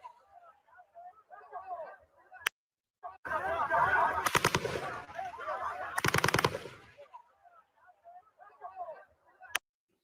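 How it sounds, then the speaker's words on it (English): Bursts of rapid gunfire crackle in the background of a street protest amid smoke grenades and tear gas, with sharp isolated shots before and after, under a voice talking. "You can hear the shots in the background going off."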